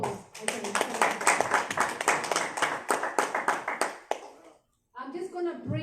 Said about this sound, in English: I'm just going to give him a round of applause